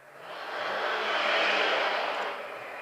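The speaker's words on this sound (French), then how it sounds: "il y en a un qui est passé dans la rue avec une moto ou je sais pas quoi" A motorcycle roars past in the street outside, swelling from faint to loud and fading again over a few seconds, a steady broadband engine rush with no talking.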